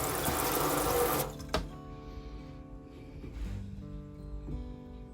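Water from a pump hose pours steadily into a sink for about a second, then cuts off, leaving faint dripping and low hum with a few small knocks.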